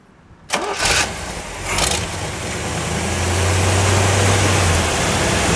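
A 1974 Chevrolet Corvette engine cranks briefly, catches with a loud burst, then settles into a steady, rumbling idle that grows fuller and louder, heard close up with no voices.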